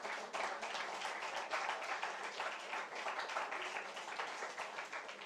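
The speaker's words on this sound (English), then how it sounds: "A big round of applause." An audience at a tabla and flute concert event gives a round of applause, with dense, steady clapping from many hands that holds evenly for several seconds, moderately close and free of talk.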